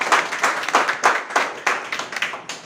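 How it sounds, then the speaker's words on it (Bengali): An audience at an office celebration claps for a guest, with rhythmic, fairly close claps coming in uneven waves that build and ease off. "আমাদের সবার পক্ষ থেকে স্যারের জন্য আরেকবার করতালি প্লিজ"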